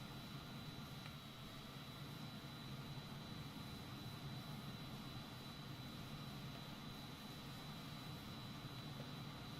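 Aircraft engine running steadily in Microsoft Flight Simulator 2020, a constant droning roar that stays even throughout, with no talking.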